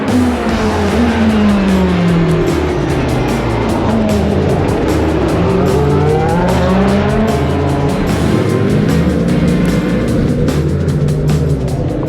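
A race car at a Detroit street race brakes into a tight hairpin and powers around further corners. The engine note rises and falls continuously with audible gear changes, loud and close, and no voices are heard.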